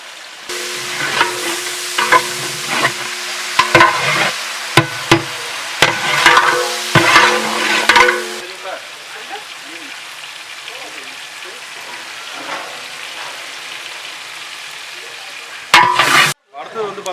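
Onions and tomatoes fry in a pan for turkey biryani, with loud stirring scrapes and clatters over a steady sizzle for about eight seconds, then a softer continuous hiss of frying.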